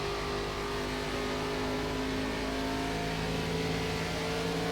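Race car engines roar continuously in an iRacing NASCAR ARCA Series race at Nashville Superspeedway, a loud, dense drone of several cars at full throttle with shifting engine pitch.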